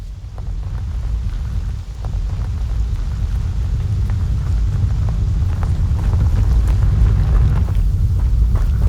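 Depulso spell cast in Hogwarts Legacy, a loud rumbling magical force blast sustained with dense low booming texture throughout, no voices.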